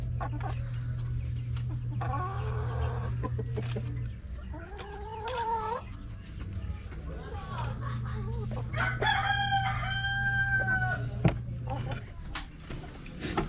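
Rhode Island Red chickens eating cabbage, clucking and squawking up close, with a rooster-like call, over a steady low hum.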